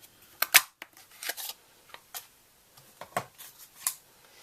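A 1 3/8 inch scallop punch snaps through Bermuda Bay card stock, giving a few sharp, close clicks and crunches with quiet pauses between them.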